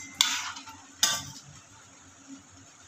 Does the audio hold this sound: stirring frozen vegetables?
yes